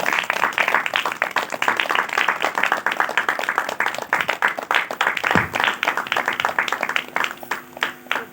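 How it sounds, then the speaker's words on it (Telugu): At a village Christmas celebration, an audience claps in a fast, even rhythm to welcome a guest, a close and steady beat of many hands with a brief tonal sound partway through. "బిగ్గరగా చప్పట్లు కొడుతూ స్వాగతిద్దాం"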